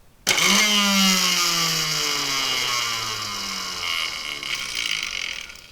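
On a bench test, a repaired snowblower's recoil starter drive is spun and a small engine catches with a sudden loud start, then runs steadily and close at a high idle that slowly eases back.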